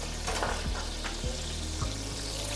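Cherry tomatoes frying in a pan with garlic and chili for spaghetti alle vongole, a steady close sizzle with soft stirring knocks and clatter, no talking.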